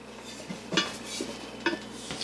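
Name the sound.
cast iron Dutch oven being handled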